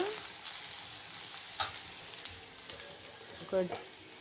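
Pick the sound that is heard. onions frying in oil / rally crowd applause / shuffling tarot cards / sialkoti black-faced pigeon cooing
onions frying in oil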